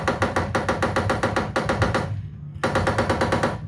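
Rapid machine-gun fire from a Jurassic Park edition bar-top arcade shooter, loud and close in rhythmic bursts of fast repeated shots, a brief pause near the end, then firing resumes.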